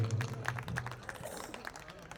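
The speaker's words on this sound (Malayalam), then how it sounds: "നല്ലൊരു നിറഞ്ഞ കൈയടിയോട് കൂടി നമുക്ക് ഇവരെ" Crowd applause at a Kerala temple stage event honouring a drama's director and team: steady, fairly faint clapping over a low hum for about two seconds.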